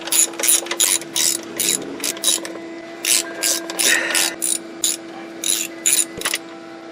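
A hand ratchet snugs transmission pan bolts on a Pontiac Sunfire with a GM 4T40E automatic, giving close, loud bursts of rapid clicking in repeated short strokes with brief pauses between them.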